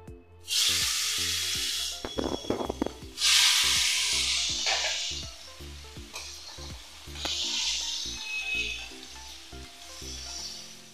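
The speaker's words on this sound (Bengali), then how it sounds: "কালো জিরা ফোড়ন দিয়ে দিলাম।" Nigella seeds dropped into hot oil left from frying paneer with turmeric and salt, giving loud bursts of crackling sizzle that swell and fade in waves, with spoon clinks in between, close up and without speech.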